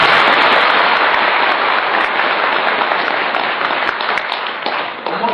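Dense, steady applause from an audience at a Naqsyabandiyah Sufi order gathering, a continuous crowd clapping texture that holds loud and even before easing slightly near the end, with no talk over it.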